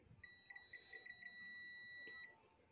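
A digital multimeter's continuity test gives a steady high-pitched electronic beep for about two seconds, with faint clicks and background noise around it.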